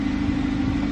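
A Hyundai Sonata Hybrid's regular gasoline engine runs at a steady idle with an even mid-low hum, close and constant throughout.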